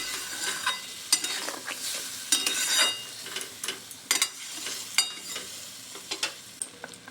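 Ground poppy-seed paste and green chillies are stirred in a pan for a vegetarian ridge gourd and paneer dish, with irregular scraping strokes and soft knocks over a faint, steady sizzle.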